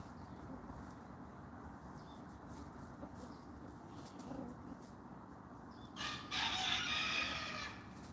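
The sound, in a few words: chickens screaming and roosting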